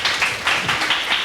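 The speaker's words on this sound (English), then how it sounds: "Let's give them a round of applause." Brief, lively clapping from a conference audience welcoming two speakers, dense and close with a slight pulsing rhythm and no talk over it.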